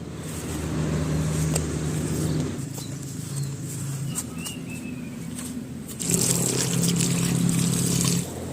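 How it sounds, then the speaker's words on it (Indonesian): Water poured over exposed bonsai roots, a steady hissing trickle and splash that runs continuously, growing louder near the end, close and without talk. "Saya siram pakai air bertujuan agar lebih jelas untuk akar di bawah."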